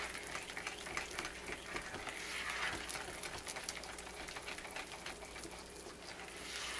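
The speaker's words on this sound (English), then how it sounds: "I'm just going to whisk this all up" Soap batter being whisked in a crock makes a steady, rapid, rhythmic whirring scrape that continues without a break. It is close and fairly quiet, and no voices are heard over it.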